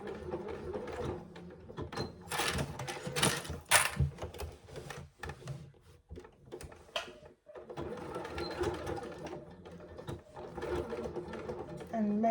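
A sewing machine runs a second row of stitches through foam on a zip pouch, in loud bursts of rapid whirring with short pauses between them.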